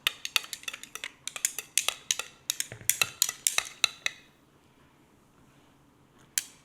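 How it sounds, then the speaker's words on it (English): A long spoon stirs tea in a deep liter jar, making a quick run of sharp glassy clinks for about four seconds. Two final taps follow after a short quiet pause. "And then I just stir it."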